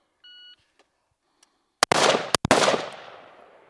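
A short electronic shot-timer beep sounds, followed after a pause by two loud, sharp rifle shots in quick succession on a shooting range, each ringing out with a reverberant tail.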